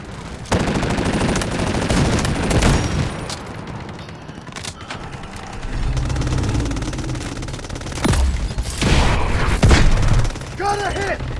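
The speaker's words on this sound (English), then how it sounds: "Artillery barrage ready." An artillery barrage fired in a combat video game on the map Aftershock: heavy repeated booms and rapid gunfire in dense bursts across the whole span, mixed with in-game voice callouts.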